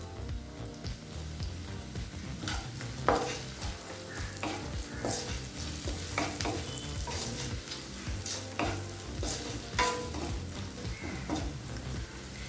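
Onions sauté in a pan with chopped green chillies and salt, with steady frying crackle and repeated stirring scrapes and clinks from a spoon throughout, close by and fairly quiet.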